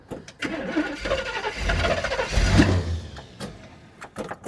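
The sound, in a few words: classic car engine starting and running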